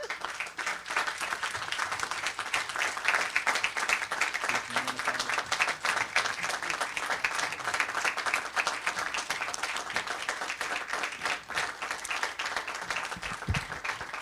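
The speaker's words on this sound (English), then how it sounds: "We're gonna get another round of applause" Steady applause fills a council session chamber, a dense unbroken wash of clapping hands at moderate loudness that carries on for the whole stretch, with a brief low thump near the end.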